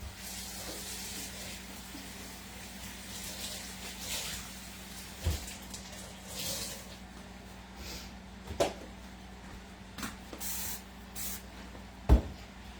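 Soap cleaner is sprayed onto a greasy kitchen stove in repeated short hissing bursts, with a few sharp knocks and clatters between them and no talk.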